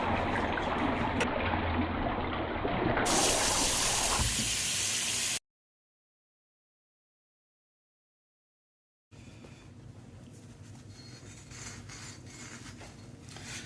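Hot water runs steadily from a tap while a metal part is scrubbed with a scourer during a phosphoric acid rust-cleaning job, a loud broadband splashing stream that cuts out into silence midway, then resumes as a softer trickle.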